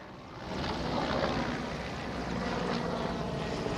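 A helicopter carrying India's Prime Minister arrives in the Manjari area of Pune: a steady rotor and engine drone swells in after a quiet start and holds at a fairly constant level.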